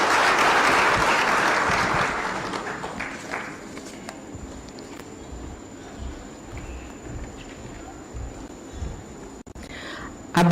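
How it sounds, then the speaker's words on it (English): Applause from the audience at an election commission report launch for Kenya's August 9 general election. A loud burst of clapping opens, then fades into lighter scattered clapping and room noise. "A better clap for Her Excellency Anne Waiguru."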